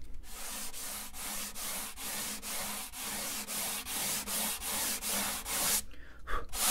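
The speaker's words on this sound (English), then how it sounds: "I'm going to take a little bit of wood off that with some sandpaper." Steady rhythmic strokes of sandpaper rubbing on wood, about two per second, a dry scratchy rasp repeating evenly, ending with a few softer scuffs.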